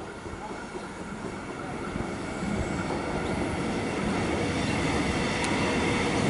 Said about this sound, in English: We've got an Eltham service arriving.